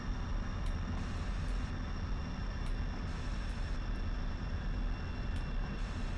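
Jet engine of a MiG-21bis taxiing in the DCS flight simulator, throttled up to a constant, dense roar that holds steady throughout with faint periodic clicks above it and no talking.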